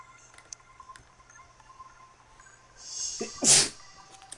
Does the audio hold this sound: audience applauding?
no